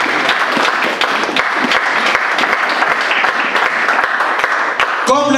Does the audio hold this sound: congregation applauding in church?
yes